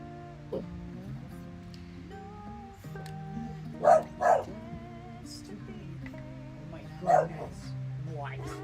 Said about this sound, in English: That's a very vocal doggo you've got.